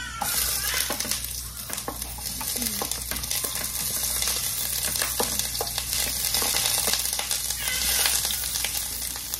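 Sliced onion fries in a pan for pansit, a continuous close sizzle with crackling pops and occasional stirring scrapes, fairly loud throughout.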